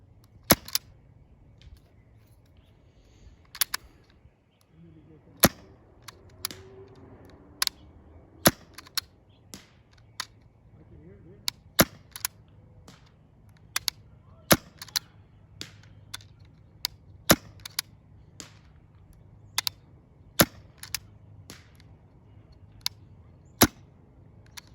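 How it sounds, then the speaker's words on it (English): A Novritsch SSX23 airsoft sniper rifle fires shot after shot outdoors, sharp isolated snaps spaced a couple of seconds apart over quiet background ambience. "I'm going to do a range test at 150 feet, 10 shots."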